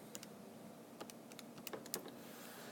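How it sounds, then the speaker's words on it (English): Numbers tapped into a calculator, a short run of quiet, irregular plastic button clicks close by with no talking. "if I type that into my calculator"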